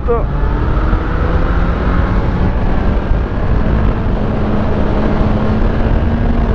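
A motorcycle rides through a series of bends, its engine droning loud and steady with shifting pitch as the rider leans through the curves, wind rushing over it.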